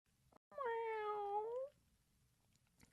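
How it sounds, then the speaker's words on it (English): A single drawn-out cat meow, clear and fairly close, rising then settling over about a second in an otherwise quiet room. "did I hear a cat?"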